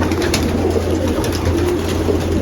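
A racing pigeon coos in a loud, close loft, its soft repeated calls sitting over a constant hum and dense background noise.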